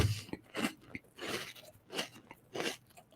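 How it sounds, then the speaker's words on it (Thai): Crunchy seasoned snack chips chewed close to the mic in an ASMR session, with about five loud crisp crunching bursts spaced in a steady rhythm, no talking. "กรอบอร่อยของชูรสไม่เยอะ ได้กินดี"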